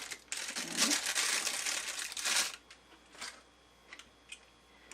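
Close crinkling of a small plastic bag holding a sewing machine presser foot, a dense burst of rustling for a couple of seconds, then scattered softer crackles and handling noises.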